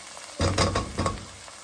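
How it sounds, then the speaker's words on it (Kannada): Tomatoes cooking in a pan give off a steady sizzle. Two louder bursts of stirring or frying noise rise above a low background hiss, with no one talking. "ಟೊಮೆಟೊ ಎಲ್ಲ ಚೆನ್ನಾಗಿ ಬೇಯಿಸಿ"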